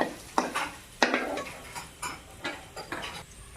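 A spoon scrapes and taps rhythmically against a pan while sautéing with turmeric over low heat, about seven clear strokes over a faint sizzle, with no speech.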